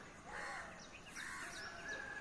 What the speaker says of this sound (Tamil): 6 o'clock ஆச்சுன்னா காக்கா மட்டும்தான் நிறைய கத்துற மாதிரி இருக்கும்